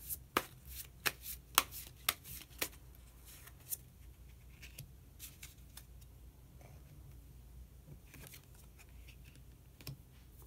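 Tarot cards shuffled and drawn from the deck, with a run of sharp, quiet card snaps and flicks close by early on, then softer rustling and a few scattered taps.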